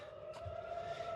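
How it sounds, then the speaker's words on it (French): A faint, steady wailing air raid siren holds at one pitch in the distance, droning on without rising or falling. "Les sirènes, vous les entendez toujours."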